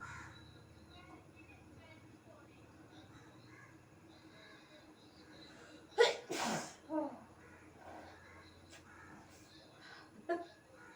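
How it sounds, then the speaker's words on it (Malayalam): A person sneezes after eating pepper in a challenge, with a sharp close sneeze followed by a smaller one and a later brief one, over quiet room noise with faint background voices. "4 തുമ്മല് ഞാൻ തുമ്മി"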